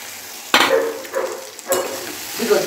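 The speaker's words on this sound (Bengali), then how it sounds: "ভেন্ডি আলু ভাজা" Okra and potatoes frying together in a pan give a loud, close sizzle, with two sharp stirring scrapes and gentler tossing sounds, and no talking.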